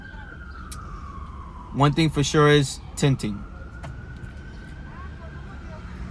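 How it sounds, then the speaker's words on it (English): An ambulance siren on a New York City street near a hospital, its steady wail sliding slightly in pitch as it passes, with someone talking briefly over it partway through. "I'm near a hospital, so wait for this ambulance to pass"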